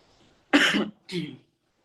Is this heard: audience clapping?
no